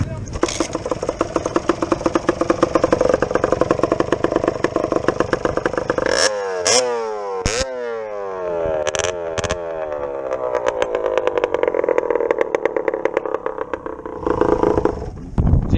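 KMX dirt bike engine running hard at a motocross track, loud and near with throttle blips and sweeping rev changes mid-way, then continuing to buzz steadily before a final rise.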